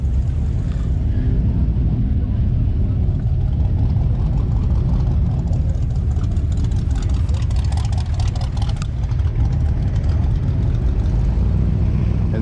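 A 1968 Chevy C10 long-bed pickup's engine idles steadily with a low, even rumble that holds through the whole stretch, with no talking.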